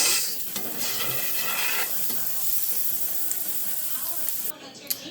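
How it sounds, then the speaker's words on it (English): Onions sauté in butter in a pan for a hot dog recipe, giving a steady, close sizzle with occasional stirring, loud and continuous until it suddenly drops away near the end. "there's nothing better than onions sauteed in butter. Alright, so we're gonna let these sweat up about 3 to 5 minutes."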